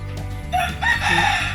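Mother hen sheltering her chicks beneath her wings in a rural Philippine village, letting out short, tense clucks and a rooster-like call, close and fairly loud, with no talk over it.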